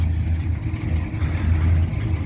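Dodge 4x4 truck with a 360 V8 swapped in for the original 318, running steadily with a deep low rumble that rises and falls slightly, close and fairly loud, no talking.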